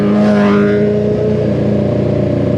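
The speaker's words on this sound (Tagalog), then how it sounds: "Suzuki Big Bike nga pala yan mga boss" A Suzuki Hayabusa big bike roars past on an expressway, loud and near, its high engine whine sweeping by over steady road and wind rumble.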